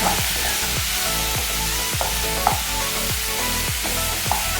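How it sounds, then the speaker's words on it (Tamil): Mango pachadi being stirred in a hot pan, steady sizzling hiss under repeated scraping strokes of a spoon that come in a regular rhythm, close and fairly loud, with no voices. "இப்போ லைட்டாக நம்ம எல்லாத்தையும் மிக்ஸ் பண்ணி வச்சுக்கலாம்."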